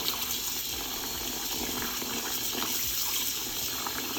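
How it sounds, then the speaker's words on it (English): Lukewarm water pours steadily into a container to soak loc extensions, a continuous close gushing and splashing from a tap, loud and unbroken throughout with no speech. "I'm gonna add just a little bit more water, a little bit."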